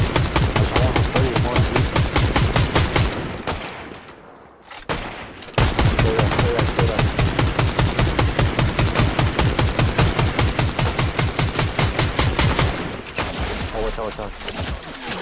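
Rapid automatic gunfire in Fortnite on PC, loud and sustained bursts with a short pause near the middle, while players talk over the shooting.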